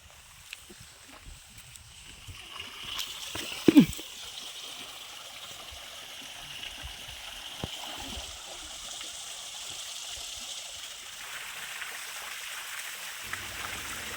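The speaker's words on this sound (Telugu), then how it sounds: "సో ఇది ఒక వాటర్ ఫాల్ అనమాట." Water trickles and flows at a small waterfall at Kethanahalli, a steady soft wash of stream sound with a brief louder splash early on, heard at moderate distance with no talk.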